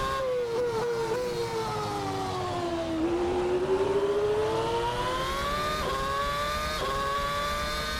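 A McLaren MP4/22 Formula 1 engine in Assetto Corsa screams through the revs, pitch climbing and dropping with quick upshifts and a gurgle on each change, loud and continuous, no voices.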